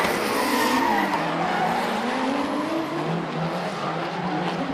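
An S13 drift car on a Tauranga track in a D1NZ pro event slides with loud, sustained tire squeal over a wailing engine, the screech shifting in pitch as it skids.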